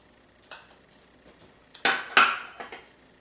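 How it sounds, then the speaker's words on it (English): Brown sugar, flour and salt being stirred in a saucepan, a few sharp metallic scrapes and clinks of utensil against pan, sparse at first, then a louder cluster of knocks, with no speech. "all we're going to do is just stir this in the pan"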